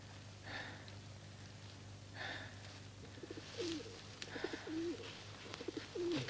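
A pigeon coos softly in short rolling phrases near the middle and end, faint against a low steady hum and sparse background noises, from a 1956 television adventure drama.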